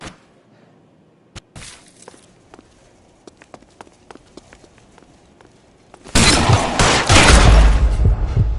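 Heavy close gunfire erupts in the LA Noire video game, a loud sustained burst of shots after scattered quieter clicks, thumps and footsteps.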